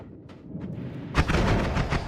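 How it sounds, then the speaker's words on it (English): A revenge explosion bursts from a slain enemy in the roguelike game Noita, a sudden loud blast at about one second that rolls on as a dense crackling rumble after a few faint clicks. "That enemy was quite dangerous with the revenge explosion."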